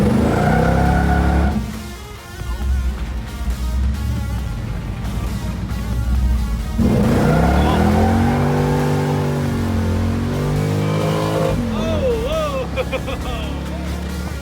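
1970 Chevelle SS V8 revving at three-quarter throttle, a loud, close rumble that rises and falls through gear changes, with people talking over the engine.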